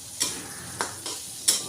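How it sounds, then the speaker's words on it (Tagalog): Pork frying with garlic and onion in a home pan for sautéed pechay, a steady low sizzle broken by a few sharp scraping stirs, close and moderately loud with no talk. "Pinrito muna natin konti yung baboy na panghalo natin."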